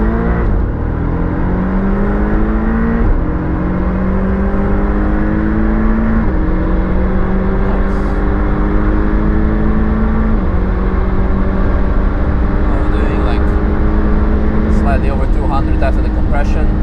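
A 400-horsepower Porsche accelerating hard on the Nürburgring: a loud, continuous engine roar climbs in pitch through repeated gear changes, heard from inside the car with a voice talking over it.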